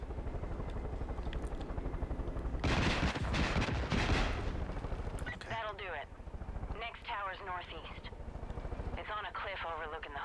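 A helicopter's rotor thumps steadily throughout in the video game Far Cry 5, joined by a loud burst of gunfire midway, with voices and radio chatter over it.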